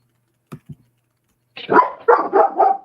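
A dog gives two short soft barks, then a burst of several louder, close barks in quick succession after a pause, heard alone in an otherwise quiet indoor room.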